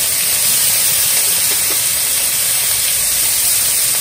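Onions hitting a hot pan with garam masala give off a loud, steady hiss. It runs continuously without a break and there is no talking.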